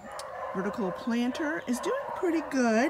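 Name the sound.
dog barking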